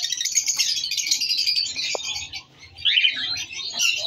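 Pet lovebirds kept as a fostering pair in a breeding room chirp and chatter in dense, shrill bursts nearby, with a short pause before the twittering resumes.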